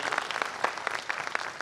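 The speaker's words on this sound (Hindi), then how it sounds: "इन दोनों बेटियों के लिए ताली बजा दीजिए आप लोग" Audience applause at a Bhojpuri stage show: a brief burst of scattered, fairly sparse clapping from a live crowd, with individual claps standing out.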